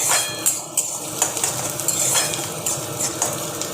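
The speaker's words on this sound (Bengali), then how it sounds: "এবার একটু ভাজবো" Garlic, ginger and onion fry in oil while a utensil clinks and scrapes against the pan, giving a soft sizzle broken by irregular metallic taps.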